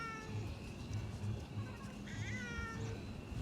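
A cat meows at a farmhouse with several plaintive, drawn-out mews at moderate distance, fairly faint against quiet rural background noise.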